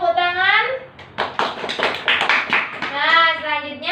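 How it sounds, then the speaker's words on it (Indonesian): Clapping from a classroom group after a student presentation, a short burst of scattered hand claps between stretches of voices talking before and after. "Beri tepuk tangan."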